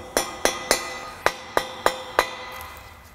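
Seven sharp metallic hammer taps on a car differential ring out at an uneven, deliberate pace, each leaving a brief resonant ring, close and alone.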